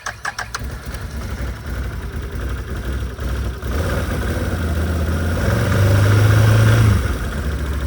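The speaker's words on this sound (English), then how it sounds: "I'm gonna let it sit here and idle for a second because it is kind of cold" A belt-drive off-road vehicle's engine idles steadily in the cold to warm up, a close, continuous low drone that swells slightly in the middle before easing back, with no talk over it.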